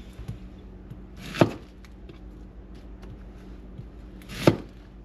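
Small onions chopped into big chunks on a board, with two sharp knife strikes about three seconds apart against quiet background noise.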